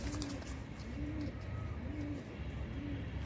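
Nayra pigeons coo softly in a steady repeating rhythm, four rising-and-falling calls over a constant low hum, with no voices.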